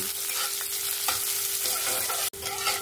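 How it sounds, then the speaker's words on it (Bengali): Onion, garlic and chili sizzle steadily in hot oil with occasional scraping stirs, a continuous crackling hiss close by, no voices. "দিয়ে ভালো করে প্রথমে এগুলোকে ভাজা ভাজা করে নেব"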